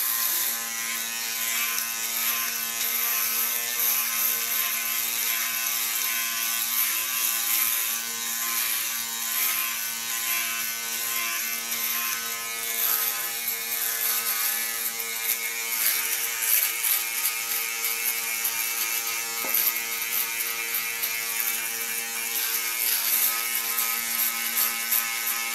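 An electric hair clipper shaves a head bald, giving off a steady, loud, close buzzing hum that runs without a break and with no talking.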